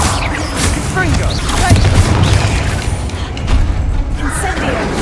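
A Confringo spell explosion goes off in the video game Hogwarts Legacy, giving loud booming blasts over a dense, rumbling battle soundscape while a voice talks over it.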